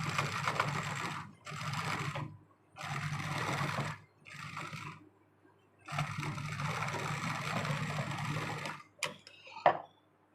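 A sewing machine top-stitches a blouse in several short bursts and then one longer run, close and clear, with brief quiet gaps and a few clicks of handling at the end.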